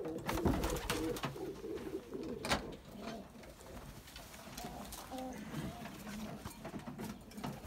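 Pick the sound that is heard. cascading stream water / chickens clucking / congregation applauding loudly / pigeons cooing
pigeons cooing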